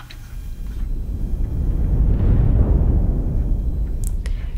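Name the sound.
low boom swell patch in a film score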